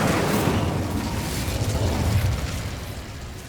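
Incendio fire spell cast in Hogwarts Legacy, a loud, sustained whooshing roar of flame with a rumbling low end that fades slightly toward the end.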